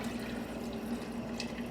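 Liquid for a gluten-free prime rib soup pours steadily into a pot on the stove, a continuous close trickle and splash with a faint hum underneath and no talking.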